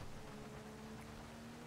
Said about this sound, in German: Oh, Regen geht tatsächlich unter der Brücke weg.